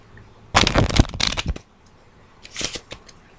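A deck of playing cards from a magic trick set is riffled and shuffled up close, two quick bursts of crisp flapping clatter followed by a shorter, softer shuffle.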